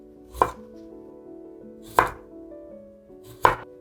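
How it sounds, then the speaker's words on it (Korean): A knife chops carrots on a cutting board in three sharp, evenly spaced strikes, close and clear with quiet pauses between them. "그 다음에 당근을 잘라볼게요."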